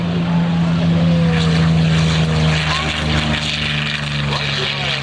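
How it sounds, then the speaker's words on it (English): A Curtiss P-40 Warhawk propeller warbird on its takeoff roll at an airshow produces a loud, steady engine drone and propeller roar, with a commentator talking over the noise. "This is the P-40 the Curtis Warhawk."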